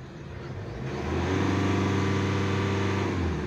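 A 2016 Hyundai Accent CRDI diesel engine with a low power fault rises in pitch and holds a steady, strained rev for a couple of seconds, close and moderately loud, with no voices.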